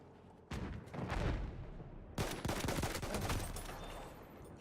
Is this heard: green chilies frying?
no